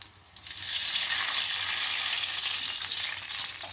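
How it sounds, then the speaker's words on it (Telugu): Tamarind juice poured into a hot kadai for pulihora erupts after a quiet moment into a loud, bright sizzle that stays strong and close, then eases slightly toward the end. "ఈ రసాన్ని మనం ఈ కడాయిలోకి యాడ్ చేసుకోవాలి"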